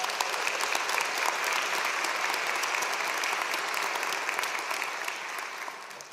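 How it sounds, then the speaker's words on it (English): A crowd at a law school spring commencement ceremony claps continuously, a dense even wash of applause that fades a little toward the close. "give yourselves a round of applause on that"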